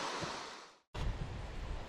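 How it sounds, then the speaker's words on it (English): Waterfalls tumbling down a mountainside on a hike near Lake Como, a steady broadband rush of falling water, loud and close, briefly cut by a short gap of silence before resuming. "There's like waterfalls tumbling down."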